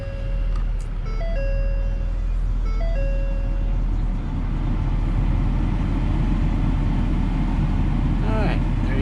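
A 2011 Ford F350 Super Duty diesel pickup turns over and settles into a loud, steady low rumble, with a few electronic warning chimes beeping near the start.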